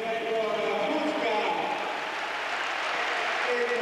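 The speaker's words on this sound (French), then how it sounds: "Et le public connaisseur qui applaudit." An arena crowd at a 1998 Euroleague basketball game between TeamSystem Bologna and ASVEL applauds, a broad, distant wash of clapping beneath a commentator's continuous talk.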